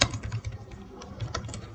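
Fingers tap quickly on a computer keyboard, a soft, close patter of uneven keystrokes with no voices over it.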